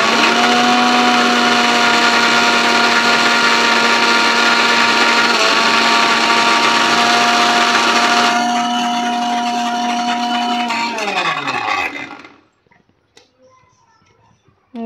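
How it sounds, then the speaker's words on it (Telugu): A mixer grinder whirs loudly and steadily, blending brinjal masala with tamarind pulp, its motor holding a constant pitch before winding down and stopping near the end, leaving quiet. "ఇలా వేసుకొని మిక్సీ పట్టుకుంటే మనకు వంకాయ మసాలా రెడీ."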